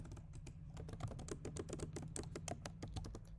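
Rapid, steady clatter of keys on a computer keyboard as code is typed, close and fairly quiet, with dense irregular clicks running throughout over a low background hum and no talking.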